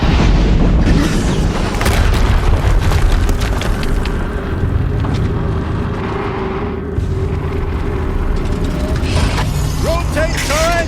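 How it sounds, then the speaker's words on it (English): Deep, heavy explosion booms in the video game Horizon Zero Dawn, loud and rumbling over a dense wash of battle noise, with a faint voice near the end. "Another explosion."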